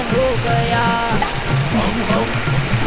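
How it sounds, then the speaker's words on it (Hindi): Water pouring from a high hilltop onto a shivling at a Shiva shrine, a continuous loud rushing splash filling the whole stretch, with a voice talking over it. "झरना गिरता हुआ"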